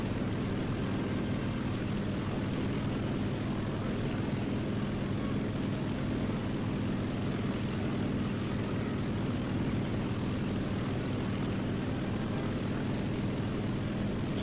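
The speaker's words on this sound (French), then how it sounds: "Cet avion est un bombardier, le SBDU, et il n'est absolument pas fait pour le dogfight." A continuous, droning roar comes from the engine of an SBD dive bomber in the War Thunder game, a steady loud drone with a few faint high chirps recurring in the background.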